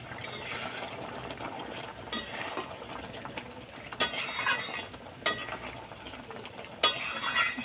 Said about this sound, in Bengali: বাটার দিয়ে 2 মিনিট ফুটিয়ে নিয়েছি